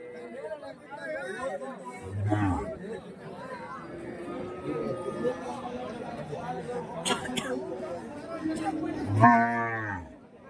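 Cattle low at the Kelamangalam cattle market, where draught and plough bullocks are sold. Two loud, drawn-out moos stand out against a steady background of crowd chatter and close-by talking.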